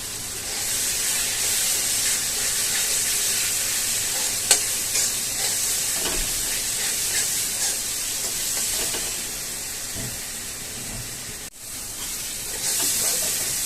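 Masala and chicken sizzle and fry steadily in a pan, a constant loud hiss with occasional scraping stirs and pops.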